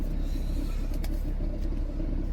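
Steady low engine rumble from a truck idling outdoors on a cold morning, a continuous deep drone with faint higher knocks on top and no speech.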